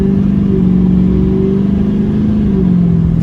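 An L5P Duramax diesel pickup truck on a stock tune accelerates hard at full throttle, its loud engine drone rising steadily in pitch close by, with no speech over it.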